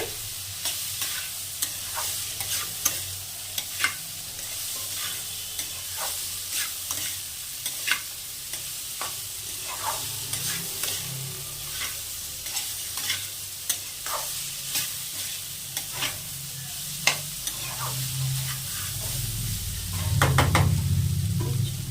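Papaya and prawns with chilli powder fry in a pan while a spatula stirs them, giving a steady sizzle broken by regular scraping knocks against the metal, up close with no talk, and the frying swells louder near the end.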